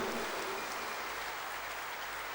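Audience applause at a religious gathering: steady, dense clapping from a large crowd, heard from a distance, moderately faint and unbroken throughout.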